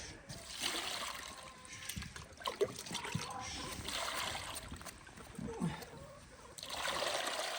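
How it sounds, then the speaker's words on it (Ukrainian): Cold water poured out during home pig butchering, a broad splashing and trickling wash that comes in uneven bursts, with brief voices and handling noises under it. "Наливаю холодну воду."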